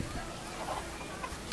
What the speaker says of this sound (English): A little fluffy chickens.